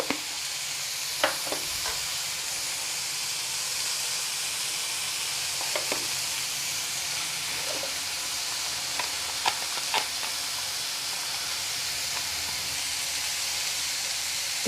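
Tomatoes sizzle in a pan as they cook, a steady loud hiss that runs the whole time with scattered small pops and the odd light scrape, and nobody speaks.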